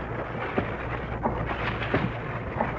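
Steady heavy rain hisses for a radio drama scene, with low rumbles of thunder rolling underneath and faint swelling bursts recurring across the few seconds, no voices present.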